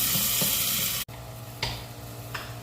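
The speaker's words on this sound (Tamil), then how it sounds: "இப்போது நல்லா மிக்ஸ் பண்ணிக்கோங்க" Tomato and onion paste is stirred in a frying pan with a steady soft sizzle, broken by a sharp cut in sound and then a few louder scraping strokes, close and without talking.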